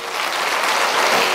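A church congregation breaks into loud, steady applause, close and dense, filling the whole moment without pause.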